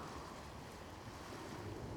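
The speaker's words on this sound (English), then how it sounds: "Somewhere outside, the sea lapped against the hull of the Bloody Gull" Sea waves washing against a ship's hull on open water, a continuous broad wash of surf with wind noise and no distinct breaks.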